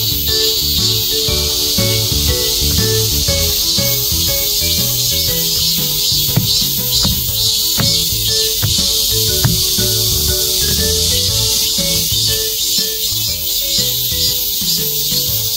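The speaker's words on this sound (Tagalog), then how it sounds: "Wala kang maririnig dito kundi tingin ng kuliglig" Dense, steady insect chirring fills a mountain park, a continuous shrill hiss with layered pulsing tones, evidently crickets among trees and plants, loud and unbroken throughout with no talking.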